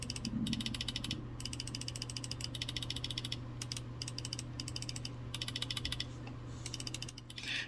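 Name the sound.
G Wolves HSK Pro 4k gaming mouse button clicks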